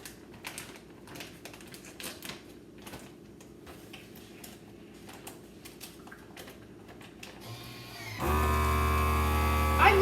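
A FoodSaver vacuum sealer sealing a bag of Swiss chard starts up near the end with a loud, steady motor whine and hum, after several seconds of quiet rustling and handling clicks.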